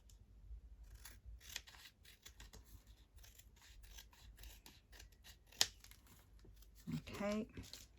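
Scissors snip through paper for craft belly bands in quick, close, crisp cuts with rustling in between, and a voice speaks briefly near the end.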